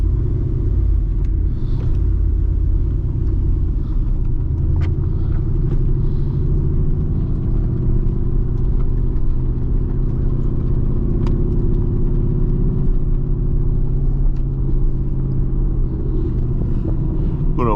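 A Mercedes-AMG GT R sports car is driven, its engine a steady, deep, loud rumble heard from the cabin, droning continuously with no talk over it.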